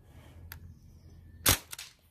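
A single sharp shot from an Umarex M1A1 Thompson 4.5 mm CO2 airgun cracks out close and loud in a quiet setting, followed by a faint secondary click, with a small tick earlier.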